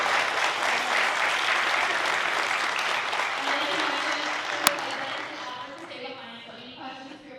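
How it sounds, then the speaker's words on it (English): Audience applause at a Brown University hackathon after a talk, a dense, steady clatter of many hands that tapers toward the end, with a single sharp click partway through and faint voices beneath. "Quick round of a big round of applause"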